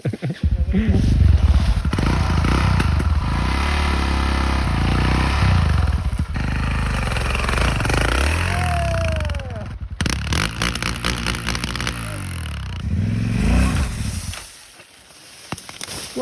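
An enduro motorcycle riding off-road produces a loud, fluctuating engine roar with revving rises and clattering, then fades near the end, while people talk over it.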